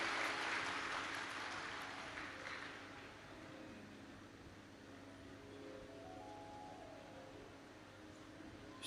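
An audience at a live Shiv Mahapuran katha, a Hindu religious discourse, claps loudly in a dense burst that fades after a few seconds into a steady low hum.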